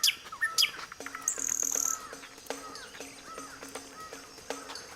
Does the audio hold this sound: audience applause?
no